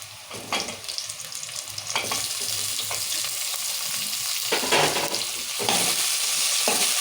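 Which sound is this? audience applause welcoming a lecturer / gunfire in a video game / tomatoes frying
tomatoes frying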